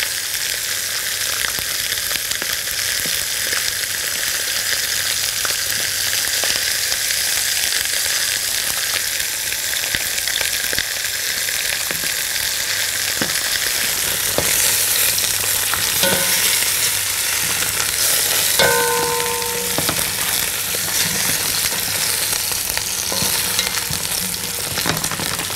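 Lamb neck sears and caramelises in a hot pan, giving a loud, continuous sizzle and crackle with occasional sharper pops, close and steady throughout.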